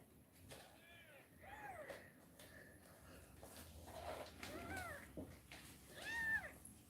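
Several hungry young kittens meowing indoors, with repeated high, rising-and-falling mews scattered across the clip, some close and loud, others fainter, over a quiet room background.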